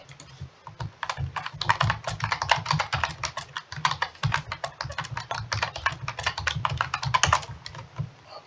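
Rapid, uneven clicking of keys on a computer keyboard fills the whole stretch, close and fairly loud, with brief pauses between bursts of typing and no speech.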